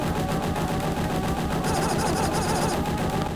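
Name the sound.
shooting in Aliens video game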